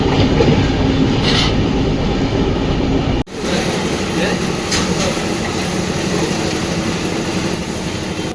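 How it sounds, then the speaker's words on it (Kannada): Aboard the Gandhidham–Nagercoil weekly express, a steady loud rumble of wheels on track fills the car, with light rattling and a sharp break near the middle before the rolling noise carries on. "train number 16335 Gandhidham Nagercoil weekly ಎಕ್ಸ್ಪ್ರೆಸ್ಸಲ್ಲಿ ಇವತ್ತು ನಾನು ಜರ್ನಿ ಮಾಡ್ತಾ ಇರೋದು"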